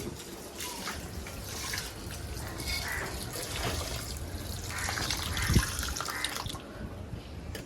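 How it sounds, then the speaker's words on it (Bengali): Water is poured over fried moong dal to soak it, a steady close splashing and trickling that runs throughout at moderate volume. "এখন পানি দিয়ে ভিজিয়ে রাখবো।"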